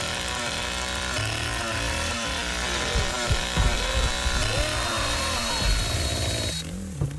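Chainsaw in The Texas Chain Saw Massacre video game, its engine buzzing loud and continuous with revving surges midway and a sputtering drop near the end as it overheats, amid background music.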